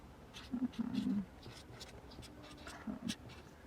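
Pen writing on paper, faint scratchy strokes in short irregular bursts, with a couple of low murmured vocal sounds mixed in.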